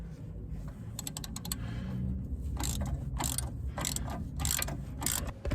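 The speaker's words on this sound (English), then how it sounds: "Now you want to tighten up that nut just snugly so that it starts to open the spindle." An old bicycle spanner turns a nut on a Ford Focus ST Mk3 spindle, giving a close run of metallic ratchet-like clicks in quick bursts over a low mechanical rumble.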